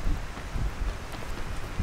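Heavy rain in Cavite, Philippines, a dense, steady wash of downpour with low rumbling patter throughout and no voices.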